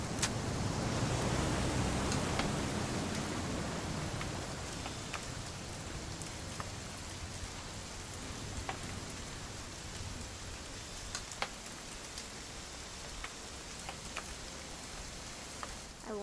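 Steady rain falls in What Remains of Edith Finch, a continuous broadband hiss of drops on surfaces that stays loud and even throughout, with a heavier low rumble in the first few seconds.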